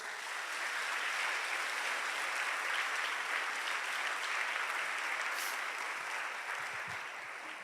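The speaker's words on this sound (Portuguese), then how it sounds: "Você pode dar um aplauso ao Senhor?" A church congregation applauds in a sustained, even wash of clapping that lasts several seconds without pause.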